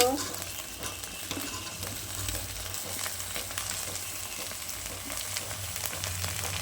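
Flat beans and onion fry in a pan with a continuous, close sizzle and crackle, marked by frequent light clicks and scrapes of stirring.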